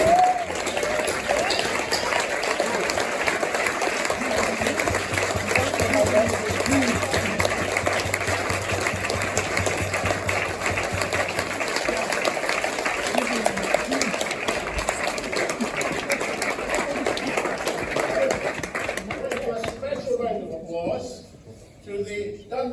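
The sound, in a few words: audience applause at a Burns Supper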